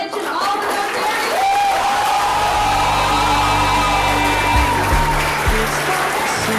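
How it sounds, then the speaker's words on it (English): Crowd applause at a youth leadership gathering with Rotary members, sustained under a steady low hum, with faint voices mixed in. "can we give one more round of applause for Rich and all the Rotary?"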